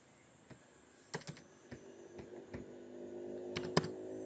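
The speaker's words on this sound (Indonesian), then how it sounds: "mengatasinya dengan menekan Ctrl Alt Delete pada keyboard ya" Keys on a computer keyboard are pressed in scattered, crisp clicks, a handful of separate taps and a quick double press, close and fairly quiet with no talking.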